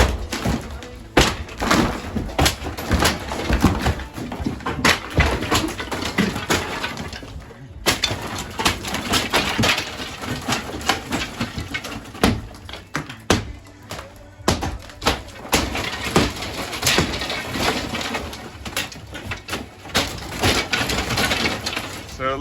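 Repeated heavy kicks against a wall inside a farmhouse under demolition, loud crunching thuds with splintering wood and crumbling debris, continuous and close, with brief voices mixed in.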